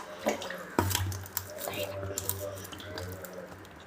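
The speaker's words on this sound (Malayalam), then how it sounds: "ഇതാ തൊള്ളാത്തോളം ചാമ്പയ്ക്ക നമുക്കിത് നന്നായിട്ട് കഴുകാം." Rose apples rinsed under a running kitchen tap: a steady stream of water splashing over the fruit with small knocks and handling sounds, close by, with a voice talking over it.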